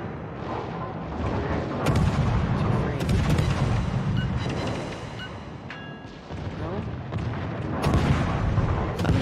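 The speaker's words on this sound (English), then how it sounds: "can I then shoot my back gun?" Warship guns fire in the World of Warships video game as deep booming blasts and rumbling explosions, several shots spread across the stretch over a continuous low battle roar.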